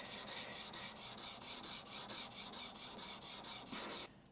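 A hand plane blade is rubbed back and forth on 80 grit sandpaper in a steady rhythm of about four strokes per second, each stroke a close, rasping scrape, stopping abruptly at the end.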